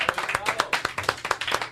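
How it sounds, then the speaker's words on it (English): Audience clapping for a drummer at a live comedy show, a short burst of brisk, uneven handclaps from a small crowd, close and fairly loud. "How about a nice round of applause for Aristotle?"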